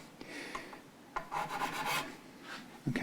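Close, gritty rasping of sanding the metal frets of a Fender USA Stratocaster guitar, in uneven strokes with brief pauses, then a soft knock at the end.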